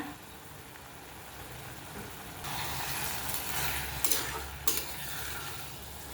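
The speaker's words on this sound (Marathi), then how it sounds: "मीठ घालून हे पुन्हा एकदा परतायचं आहे आपल्याला" Tomato bharit stir-fried with salt in a pan, a steady sizzle with scraping stirring that grows louder partway through, with a few sharp utensil knocks near the end.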